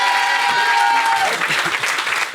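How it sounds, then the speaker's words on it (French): Studio audience applause on a French talk show fills the clip, a loud, dense clapping with crowd noise, while a sustained tone fades out early on and faint voices sit underneath. "On va l'applaudir"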